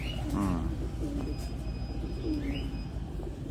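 Pigeons cooing on a rooftop in Abu Dhabi, soft repeated coos with a few chirps from other birds, fairly quiet and close, no talking.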